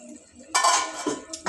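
A lid lifted off a pot of cooking chicken curry, giving a sudden bright clatter of metal that rings briefly, then a few lighter clinks close by.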